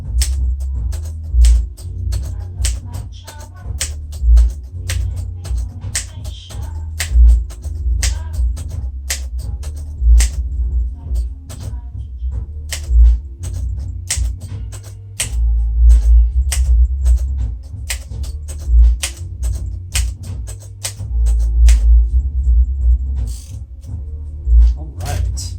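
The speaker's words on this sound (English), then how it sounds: "A completed typing test for this 1948 Royal Quiet Deluxe." A 1948 Royal Quiet Deluxe typewriter is struck key by key in a typing test, irregular crisp clacks with heavier low thumps from the carriage running throughout, loud and close.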